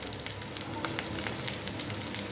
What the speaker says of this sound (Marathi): आणि आता या तेलामध्ये पहिल्यांदा आल्याचे तुकडे घालून घ्यायचे.